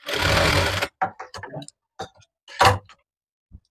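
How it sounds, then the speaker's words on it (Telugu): A sewing machine stitches the lining of a cotton summer frock in a quick whirring burst, followed by several short, clicking bursts of stitching that stop and start, close and fairly loud. "ఇప్పుడు లైనింగ్ వెనక్కేసి ఉల్టా ఇటువైపు ఉండేలా చూసుకొని మనం పైన స్టిచ్ వేసుకోవాలి."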